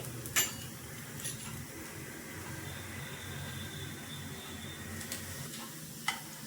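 Dudhi bhopla vadi sautéing gently in oil over a low flame, a soft, steady sizzle with a few sharp clinks and taps of a utensil against the pan, no talking.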